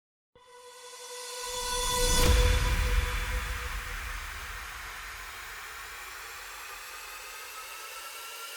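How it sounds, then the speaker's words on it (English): Electronic percussion loops and effects layered together for a dance track, opening with a swelling noisy wash that peaks and then settles into a steady sustained texture with tonal layers, loud and alone. "All percussions and FX together sound like this."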